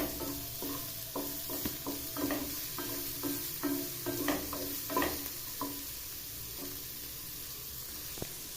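Chopped onions and green chilli sauté in a pan, with a soft sizzle under a run of quick, rhythmic spatula scrapes and taps that slow toward the end. Heard up close, with no speech.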